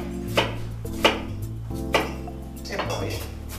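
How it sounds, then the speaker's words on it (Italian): A kitchen knife chopping an onion on a board during a cooking demonstration, four distinct sharp knocks at uneven intervals over a steady low hum, with a chef speaking between the cuts. "Prendiamo la cipolla e la andiamo a tritare"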